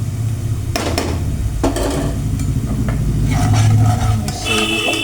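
Spices with turmeric and salt stirred into a hot pan for hilsa fish curry with eggplant and potato, a spoon scraping and clinking against the metal over a steady close sizzle of frying.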